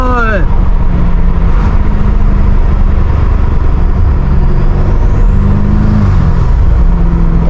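A loud, roaring engine of a catless F90 BMW M5 Competition driven on backroads, with whooshing intake noise and shifting revs, steady and close throughout.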